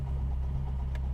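Motorcycle-powered Honda S600 car engine running at a steady idle, a low, even rumble close by with no voices.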